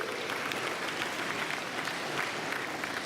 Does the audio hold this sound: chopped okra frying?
no